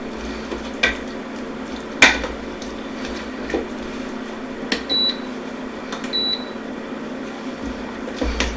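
A spoon stirs cauliflower in a pot of butter chicken on a kitchen stove, scraping and clinking now and then over a steady low hum, with a couple of short electronic beeps.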